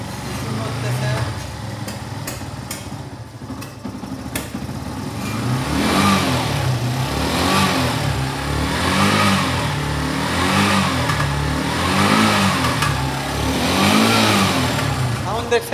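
Close by, a Yamaha FZS V1 motorcycle idles and then revs repeatedly in a steady pulsing rhythm of rising and falling throttle blips, the engine loud and continuous.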